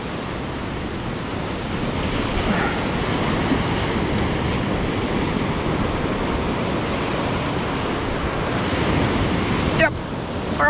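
Ocean surf rolling onto a beach at K'Gari (Fraser Island) during surf fishing, a loud, steady wash of breaking waves with wind buffeting the microphone throughout.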